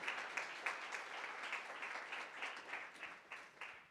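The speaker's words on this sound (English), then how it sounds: "A round of applause for Lucine" Audience applause for a speaker at a climate community event, a soft, distant-sounding patter of many hands clapping steadily and fading slightly toward the end.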